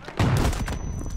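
MP9 submachine gun firing in Battlefield 2042, a short loud burst of rapid automatic shots up close, lasting about a second.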